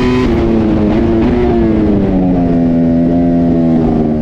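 Racing motorcycles scream past on a race track, loud high-revving engines with shifting pitch as several bikes pass close by, no talk over them.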